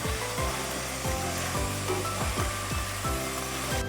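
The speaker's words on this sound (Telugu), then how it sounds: "కొంచెం మగ్గుతుందండి మసాలా కూడా ఇలా మగ్గుతుంది" Masala simmering and sizzling in a pan for a drumstick and potato curry, a steady close bubbling hiss with soft periodic stirring knocks and no talk.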